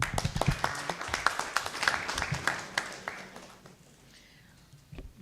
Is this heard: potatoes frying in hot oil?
no